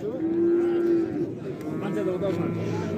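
A large cow at the Kurshab livestock market gives one long, loud moo close by, then market chatter and voices fill the background.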